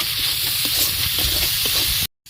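Spice masala of tomato paste, salt, turmeric, chili powder and coriander powder being stir-fried in a pan, a close, steady sizzle with soft scraping stirs underneath, cutting to silence near the end.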